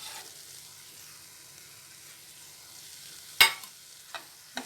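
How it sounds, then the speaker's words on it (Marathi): Spices sautéing with tomato and ginger-garlic paste over medium heat for ragda patties, a faint low sizzle followed by a few sharp scraping clacks of a spoon against the pan. "हे सर्व मसाले पण मी 2 मिनिटं असे परतून घेतलेत"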